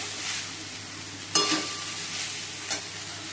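Potatoes frying in a pan give a steady soft sizzle throughout, with a sharp metallic scrape of a spatula stirring partway through and a lighter clink near the end, no voices.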